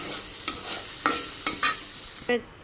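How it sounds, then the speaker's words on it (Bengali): Bitter gourd fries in oil in a pan, a steady sizzle broken by several distinct scraping stirs in an irregular rhythm, close and fairly loud. "ভালো করে ভেজে নিই উস্তাটা ভেজে নামিয়ে নিই"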